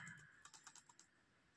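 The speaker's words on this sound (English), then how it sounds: "I will press F on my keyboard" A few soft keyboard key clicks, including the F key, tap out close by in a quiet room, followed by one sharper click near the end.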